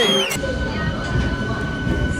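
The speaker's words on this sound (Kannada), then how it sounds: "ಟ್ರೈನ್ ಲೇಟಾಗಿ ಬಂದೈತಿ" Train rumbling and rattling close by as it pulls in, with a short high whine at the start and a steady metallic hum beneath.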